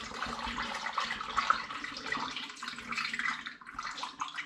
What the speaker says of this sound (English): pouring the apple mixture through a funnel into my demijohn